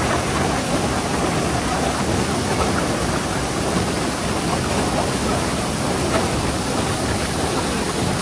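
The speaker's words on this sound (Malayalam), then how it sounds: "പാറക്കെട്ടിൽ ഇങ്ങനെ വെള്ളം വീണോണ്ടിരിക്കുകയാണ്" Vattai waterfall in Kerala pours steadily onto large rocks, a dense, continuous roar of falling water that stays loud and even throughout with no voices.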